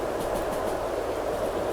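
Train cars rolling along the track in the railway game Derail Valley, giving a steady, even rumble with a faint rhythmic clatter that carries on unbroken throughout.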